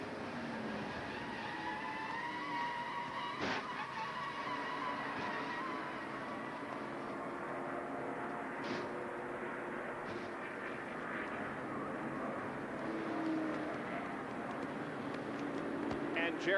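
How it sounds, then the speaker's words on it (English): In-car audio from a NASCAR stock car with a rear-facing view at the 1990 TranSouth 500 race: a constant loud engine roar with shifting pitch, punctuated by brief sharp bursts, and voices faintly under it. "Now this is from Ernie Irvin's car, looking out back."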